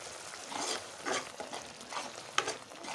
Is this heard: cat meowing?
no